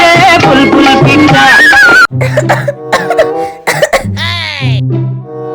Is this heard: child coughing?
yes